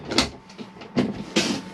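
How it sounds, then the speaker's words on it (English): A cutlery drawer in an Auto-Sleeper motorhome kitchen slides open and shut in a few quick close scrapes and clunks, heard alone without talk. "And then you do have your cutlery drawer"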